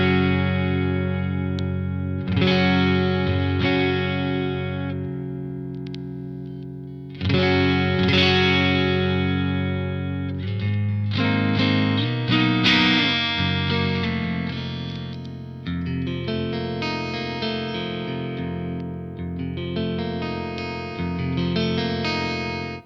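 Electric guitar played through 29 Pedals EUNA and OAMP pedals, heard alone as sustained distorted chords and riffs with a bright, shimmering top end over about twenty seconds of steady, loud playing.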